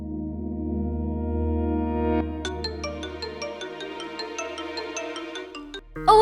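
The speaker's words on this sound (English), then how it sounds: "phone rings all the time" A mobile phone ringtone plays as a repeating melodic pattern of bright tones, steady and moderately loud, starting after a sustained musical drone and cutting off abruptly at the end.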